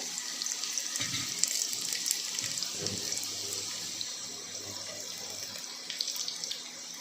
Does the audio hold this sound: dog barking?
no